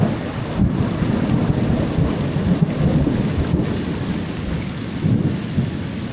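Heavy rain pours down steadily in a forest during a thunderstorm, with rolling thunder rumbling underneath, loud, dense and continuous.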